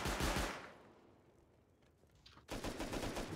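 Automated turret machine-gun fire in Rust, a loud rapid burst at the start that fades out, then a fresh sustained burst kicks in after a short lull, heard with no talking.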